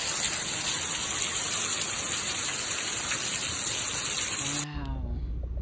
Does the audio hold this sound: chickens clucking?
no